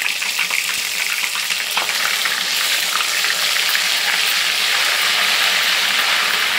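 Ginger garlic paste spluttering in hot oil with a loud, continuous crackling sizzle and a few stirring clicks near the start, steady to the end.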